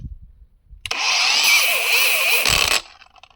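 A cheap Revolt cordless angle grinder, fully charged with a 4 Ah battery, spins up at top speed with a loud high-pitched whine for about two seconds, then cuts off and winds down, alone with no talk.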